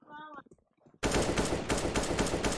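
AK rifle fire in a Counter-Strike–style shooter: after a second of quiet voice chat, loud, continuous automatic bursts erupt and hammer on nonstop for the rest of the clip.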